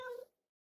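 A cat meows once in the video game Minecraft: a short, close, clear tonal mew that fades within a third of a second, followed by silence.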